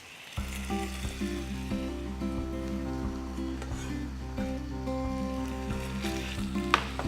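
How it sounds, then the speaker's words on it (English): Potatoes slipped into a pan of hot oil set off a sudden, steady sizzle that carries on evenly close by, with low humming tones running underneath throughout. "Pop the spuds in the pan."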